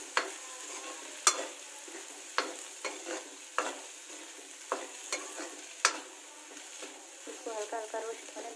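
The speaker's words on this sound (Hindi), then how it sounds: "इसको धीमी आँच पे हल्का हल्का चलाते हुए फ्रेंड्स रोस्ट करेंगे" Sabudana (tapioca pearls) stirred and roasted in a pan over low heat: steady soft dry rustling broken by sharp scraping knocks of the stirring spoon, close up, with a voice talking faintly now and then.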